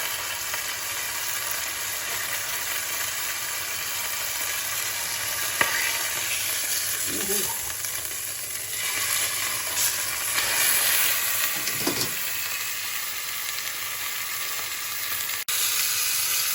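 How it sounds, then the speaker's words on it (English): Steady, close sizzling of pork frying in a pan for ramen, a constant crackling hiss with a few faint clinks and scrapes along the way. "this is sizzling away"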